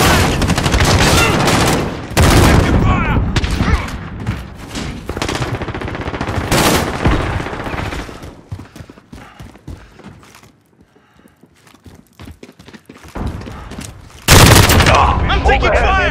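Loud gunfire in the video game Call of Duty: Modern Warfare: dense machine-gun bursts and explosive booms rattle continuously, then ease into a quieter stretch before a heavy blast, with voices calling out over the din.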